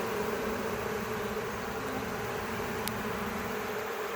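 Dense, steady buzzing of many queenless honeybees in an open hive, loud and close, a continuous agitated drone with no pauses and no voices.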